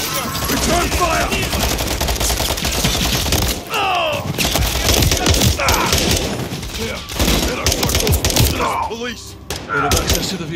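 Dense automatic gunfire fills a firefight in the Call of Duty Modern Warfare 3 campaign, with rapid bursts, mechanical weapon clatter and shouted voices mixed in throughout.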